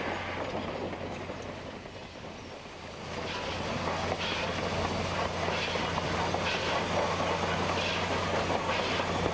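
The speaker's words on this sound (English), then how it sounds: "With turning completed, our train heads back toward East Ely." Nevada Northern train with steam locomotive No. 40, a Baldwin-built 10-wheeler, rolling along the rails toward East Ely, heard from on board as a steady rumble with continuous clickety-clack of wheels and a faint hiss, close and unbroken.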